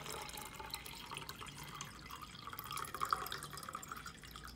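Water pours into a Mightymug travel mug, a steady faint trickling and splashing stream that rises slightly toward the end, with no talk.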